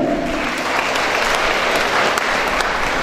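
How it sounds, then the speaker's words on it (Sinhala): A gathered audience in a town hall claps together in loud, continuous applause that holds steady throughout, with no voices over it. "අපි අත්පුඩියක් ගහමුද?"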